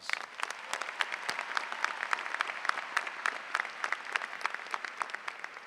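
A high school graduation audience claps in a fairly soft, distant-sounding round of applause, with many individual hand claps distinguishable in an uneven, continuous patter.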